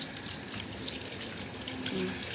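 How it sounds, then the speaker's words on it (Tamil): A running faucet pours into a sink during handwashing, a steady close hiss of water with light splashing throughout. "கையை நல்லா கழுவு."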